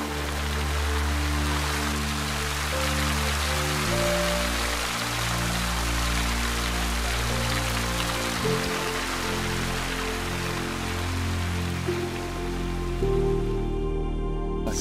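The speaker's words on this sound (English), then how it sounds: "I've just had breakfast and a huge rain squall's come through." Heavy rain squall pouring onto a wooden sailing dinghy, a dense steady patter and hiss of drops close by, with a low tonal drone underneath.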